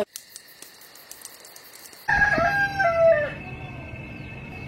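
Roosters crow loudly and close on a farm near San Ignacio de Velasco, Bolivia, with drawn-out cock-a-doodle-doo calls rising over a quieter background of hens clucking and faint rural noise.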